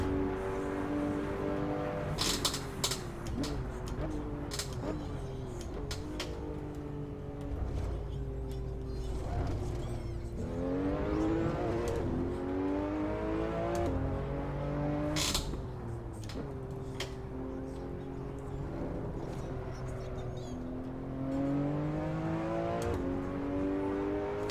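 Race car engine in the Assetto Corsa driving game at Monza, loud and sustained as it climbs through the revs, drops at each gear change and winds up again over and over.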